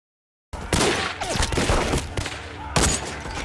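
Starting after a brief silence, a loud gunfire exchange from a D-Day Omaha Beach war film rattles on in dense overlapping bursts and cracks, with a heavy boom near the end, no talk.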